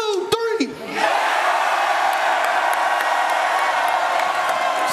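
A stadium crowd of Oregon Ducks fans roars during a college football GameDay broadcast, a loud sustained wall of cheering that surges in after a brief moment and carries on unbroken, with a few whoops and voices at the start.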